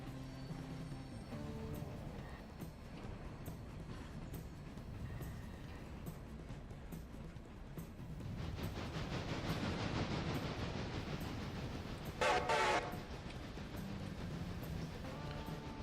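A train runs on rails in the railroad simulation game Railroader, a low, continuous rumble that swells midway, joined by a brief, sharp higher screech or hiss near the end, with no talk.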